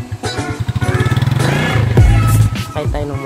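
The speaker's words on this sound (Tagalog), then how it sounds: "sakay tayo ng motor." A motorcycle ride in San Isidro, Bohol, with a close, steady engine pulse that swells into a louder, deeper rev near the end.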